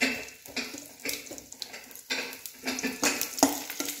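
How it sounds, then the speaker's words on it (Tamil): Mustard seeds and broken dried chillies crackle and splutter in hot oil while tempering for sambar, with a steady sizzle broken by scattered pops and occasional stirring scrapes of a utensil against the pan. "இப்போ இது கடுகு கொஞ்சம் பொரிஞ்சு வரட்டும்,"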